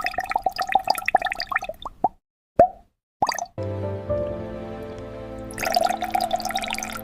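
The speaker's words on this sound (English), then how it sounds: "A filling nozzle pours a precise amount of honey into each one." Thick liquid plops and drips from a filling nozzle into glass jars on a honey factory line, soft wet plops in a rhythm broken by short silences, with a steady machine hum in between.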